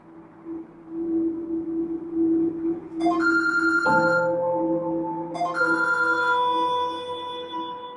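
A telephone ringtone plays alone, a tonal electronic melody of repeated notes that rises in pitch partway through and keeps ringing.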